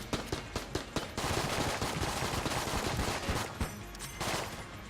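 Rapid bursts of video game gunfire from Enter the Gungeon, with a few sharp separate shots opening into a dense, sustained volley that stutters near the end, loud and close with no talking.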